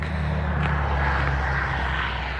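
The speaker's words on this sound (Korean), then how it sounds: "지금, 어, 비행기 날아가는 거 보이죠? 오케이. 활주로에서 떴어요." An airplane takes off from a runway near a golf club in Italy, its engines making a steady, loud roaring drone with no talking heard.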